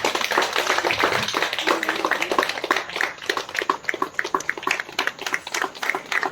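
Clapping from the audience at an Adivasi Day event in Nagpur, steady crowd applause with a brisk rhythm of hand claps that becomes more distinct and spaced near the end.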